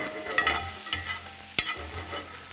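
Morel mushrooms cook in a pan with a soft background sizzle, broken by several sharp scrapes and knocks of a utensil stirring against the pan, close by and without talk.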